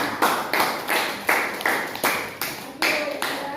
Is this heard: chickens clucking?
no